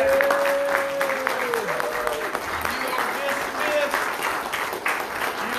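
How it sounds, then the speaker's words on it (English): A church congregation claps for the kids after a children's Easter drama, a brief burst of applause that carries under and between a voice speaking over it. "How about giving a round of applause for our kids?"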